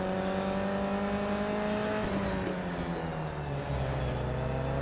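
Racing car engines in the Real Racing 3 mobile game drone steadily with layered harmonic whine, pitch shifting slightly midway as the cars run close together; no talking.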